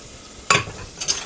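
Minced garlic hits a hot pan for meatloaf with a sudden close sizzle, which fades, then flares again in a second shorter burst.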